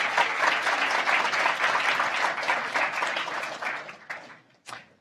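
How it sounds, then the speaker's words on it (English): Audience applause at a public briefing, a dense, steady burst of clapping from a crowd that fades out near the end, followed by one last short clap. "Let's just have a round of applause for yourselves."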